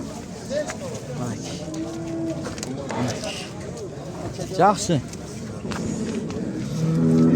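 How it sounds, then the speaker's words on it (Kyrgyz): Cows lowing at the Sokuluk livestock bazaar, a couple of drawn-out moos rising over the crowd's chatter, with people talking nearby and vehicle noise swelling toward the end. "Мынакта да бир уй бар экен"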